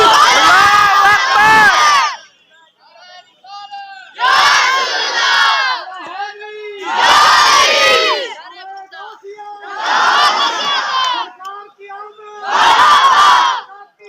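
A crowd shouts the Nara-e-Takbir slogan in five loud, ragged bursts of massed voices, each a couple of seconds long and separated by short quieter gaps.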